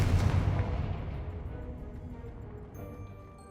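A Confringo fire spell in the Hogwarts Legacy video game bursts in one loud, heavy booming explosion that rumbles and slowly fades over a few seconds, with no voices.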